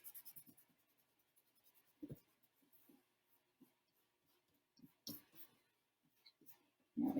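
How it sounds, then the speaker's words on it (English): Hand rubbing over folded paper on a drawing project, giving soft, dry scratchy strokes in short uneven bursts, quiet and close with pauses between them, no talk. "So fold it up and rub this."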